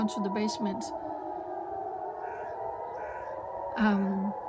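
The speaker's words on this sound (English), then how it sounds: "these sirens are going off now because missiles are coming" A wailing air raid siren drones steadily in the distance, warning of incoming missiles in Israel, with a voice speaking over it in short phrases.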